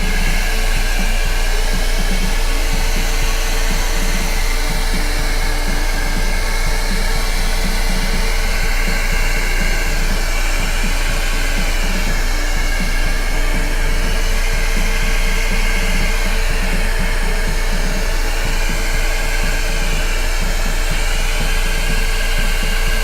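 A hair dryer or heat gun blows on acrylic pour paint, a loud, close, continuous whooshing roar with a steady motor whine that stays unchanged throughout.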